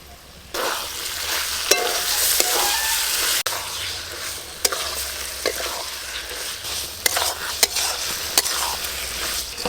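Spices, potatoes, homegrown ripe tomato and whisked sour yogurt are sautéed in a pan for a stingray fish curry. A continuous close sizzle runs under repeated sharp clicks and scrapes of a spoon stirring, with no talking.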